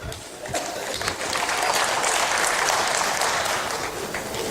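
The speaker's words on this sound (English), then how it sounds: "Deserves a round of applause." An audience at a tax conference in Jaipur applauds, a steady, moderately loud wash of clapping filling the whole stretch.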